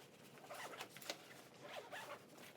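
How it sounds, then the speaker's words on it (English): A backpack zipper being pulled closed in several quick rasping strokes, close and moderately loud, with short pauses between pulls and no talking. "So this goes back here and you just zip it up."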